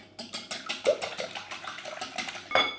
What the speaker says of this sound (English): Give these ingredients a good whisk.